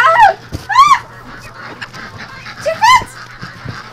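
Fowl squawk and honk loudly in several sharp bursts, a pair early and another near the end, over a steady low hum inside a VR chicken scene with no talking.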